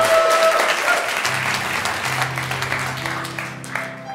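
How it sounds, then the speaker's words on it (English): A church congregation applauds at a Sunday service, a steady burst of clapping filling the room and fading gradually while a voice speaks faintly underneath. "If you're going to clap, commit to it."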